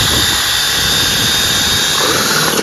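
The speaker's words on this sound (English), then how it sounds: "I'm going to pull the drill towards me" A power drill bores into the metal truck bed of a 2018 Ford F150, a loud, close, sustained high-pitched whine with grinding underneath that cuts off abruptly at the end.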